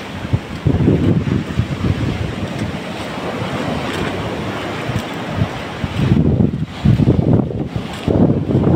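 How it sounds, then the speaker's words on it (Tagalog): Loud surf pounding and breaking continuously, with gusty wind buffeting the microphone and heavier wave crashes toward the end. "Namumuti yung alon."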